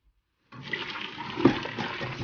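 Boiled food being drained into a strainer in a home kitchen, a sudden pour of water that starts and then rushes and splashes steadily to the end.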